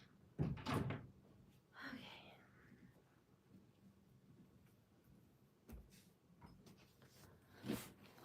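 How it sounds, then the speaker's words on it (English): A room door pushed shut, giving a soft thud with a rattle near the start, then quieter handling noises and a brief knock later, with no talk over it. "Let me close my door real quick"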